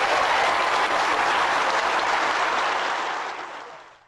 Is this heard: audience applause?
yes